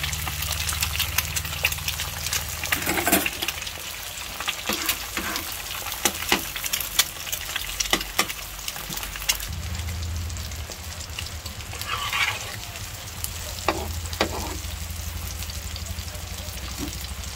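Egg frying in hot oil in a pan for a Filipino breakfast, a steady crackling sizzle throughout with occasional scrapes and clinks of a utensil.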